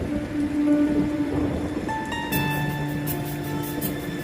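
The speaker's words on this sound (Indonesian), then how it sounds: "hujan turun benar-benar sangat deras. Diiringi suara petir yang bertubi-tubi" Heavy downpour over a cemetery with steady broadband rain hiss throughout, overlaid by sustained tonal hum and rumbling layers; no clear thunder cracks stand out, only a continuous dense roar at moderate loudness.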